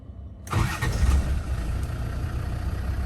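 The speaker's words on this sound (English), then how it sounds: "quick video of start up and idling on this 2003 lowish mileage Defender" A 2003 Land Rover Defender 90 TD5 diesel fires up abruptly after a moment of quiet, then settles into a steady, close, rumbling idle.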